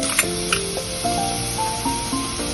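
Grated beetroot sizzles and sputters in a hot pan as it is sautéed with coriander, a steady close frying crackle with faint stirring scrapes and a soft background tone.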